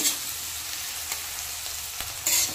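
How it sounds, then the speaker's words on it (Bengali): Sliced onions with a few slit green chilies frying in oil until light brown, a soft steady sizzle with occasional stirring scrapes near the end. "পেঁয়াজটা একটু হালকা ব্রাউন কালার করে ভেজে নেব।"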